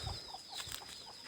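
Chickens on a nutmeg and mixed-crop farm plot cluck faintly in short, scattered calls over a steady background hiss, some distance from the recorder.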